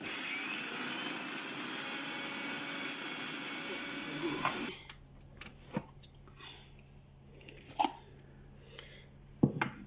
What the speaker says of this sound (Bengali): ফুটকি আর পেঁয়াজ আর রসুন দিচ্ছি, ব্লেন্ডিং